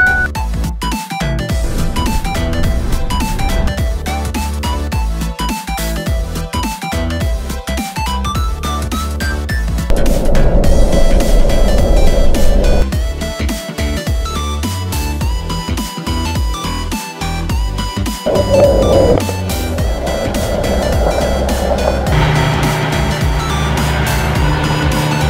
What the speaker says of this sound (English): Truck's running a bit rough today.